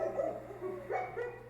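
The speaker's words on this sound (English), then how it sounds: "The barking is getting closer." Hounds bark in the video game Fear & Hunger, several short faint barks in quick succession over a low background hum.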